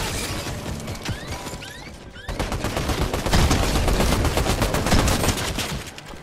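A mythic rifle in a shooter game fires, with rapid overlapping bursts and crashes at close range. The firing grows denser and louder midway into sustained, heavy rattling fire with no talk over it.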